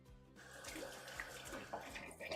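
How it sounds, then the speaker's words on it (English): Water runs steadily from a kitchen tap as hands are washed after handling meat while cooking Polish schabowy, a continuous splashing hiss with a few brief clatters. "At first, I wash hands"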